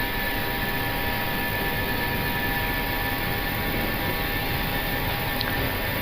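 Airliner jet engines roar steadily at takeoff thrust, a dense continuous broadband rumble with a faint high whine, heard from inside the cockpit and unchanging throughout.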